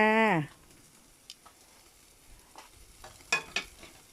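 Pork and mushrooms grilling over a stove, with faint scattered crackles and pops at close range, mostly quiet between them, after a brief voice at the start.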